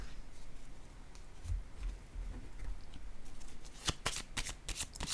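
Playing cards handled and laid down on a table, soft rustling and shuffling followed by a quick series of crisp flicks and snaps near the end, close and fairly quiet.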